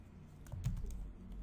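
A file name is typed on a computer keyboard with a few soft, quick keystrokes. The clicks are faint and brief against a low background hum.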